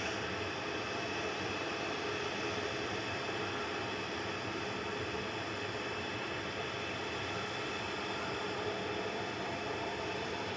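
A Boeing 777 jet at Manchester Airport, its engines giving a steady broad roar, distant and constant throughout with no voices.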